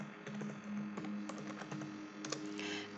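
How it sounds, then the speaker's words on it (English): Typing on a computer keyboard, a quick burst of light key clicks at uneven spacing, close and fairly quiet against a low steady hum. "I'm going to type analytics."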